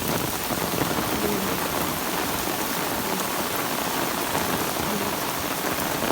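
Heavy rain pours down in a dense, unbroken roar, loud and close, with no voices present.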